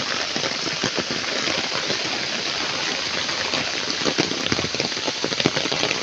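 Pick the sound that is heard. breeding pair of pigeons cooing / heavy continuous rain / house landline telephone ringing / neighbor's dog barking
heavy continuous rain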